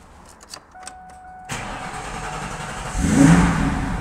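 A car engine from a 2000 model-year car cranks and catches, then settles into a rough idle before revving up louder near the end.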